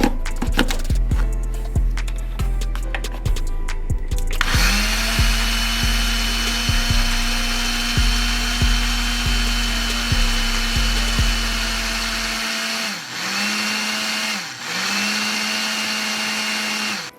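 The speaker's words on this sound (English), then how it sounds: "we're gonna take these seasonings and we're gonna put them in a blender" A countertop blender grinds seasonings for a spicy chicken sandwich coating, loud and close, with a few short bursts before a long steady whir that dips briefly twice near the end.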